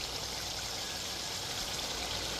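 Water poured in one go into a pot of curry duck made with farm duck, a steady splashing stream that fills the whole moment, close and fairly loud with no talk.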